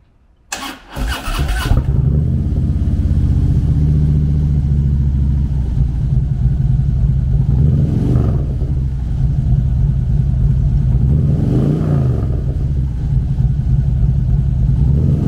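A 2016 Harley-Davidson Road Glide Special with a 107 cubic inch V-twin cranks over and fires up, then settles into a loud, steady, close-up rumbling idle with a couple of light throttle blips.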